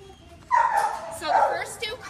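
Dogs at an animal shelter whimper and yip in a few close, rising and falling cries, with people talking over them.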